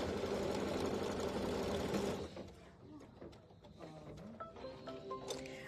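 A sewing machine stitches fabric in a steady, fast mechanical whir for about two seconds, then stops, leaving quieter room sounds and small clicks.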